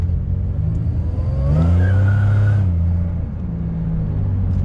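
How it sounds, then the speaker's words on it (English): A car on Douglas tires from Walmart, traction control switched off, accelerates out of a turn: engine note rises steadily with a clear revving swell in the middle, then eases back to a steady running hum, close and loud with no talk. "we're gonna give it a little bit of acceleration out of this turn"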